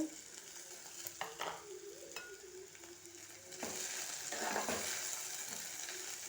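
Curry leaves drop into okra frying in a pan and are stirred, giving a steady close sizzle with scraping stirs and a louder crackling burst midway.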